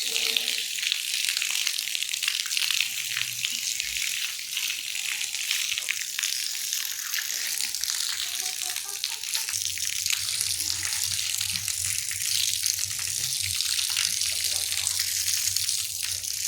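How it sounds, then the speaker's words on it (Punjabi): Tap water runs steadily while a courtyard is washed down, with a continuous hissing splash throughout and a low hum joining in the second half. "ਤੇ ਲਓ ਜੀ ਆਪਾਂ ਇਧਰ ਵਿਹੜਾ ਤਾਂ ਦਿੱਤਾ ਧੋ"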